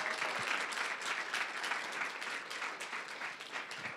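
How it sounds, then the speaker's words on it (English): An audience applauds high school students at a GRCC Spectrum Health Scholars event, a steady wash of many hands clapping, fairly loud and continuous throughout with no speech over it. "give them another round of applause"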